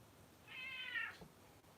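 A pet cat giving a single clear meow, quiet and nearby, against a soft background hush.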